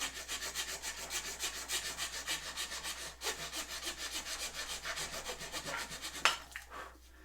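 A wood rasp filing down putty and wood on a custom recurve archery grip, rapid steady rough strokes, hard pushes and light drags back, close and loud with no talk, ending in a brief clatter.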